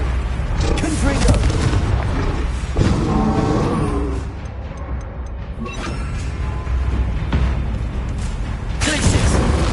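Confringo fire blast spell cast in the Hogwarts Legacy video game, a booming fiery burst layered over continuous loud game combat noise with repeated blasts and impacts throughout.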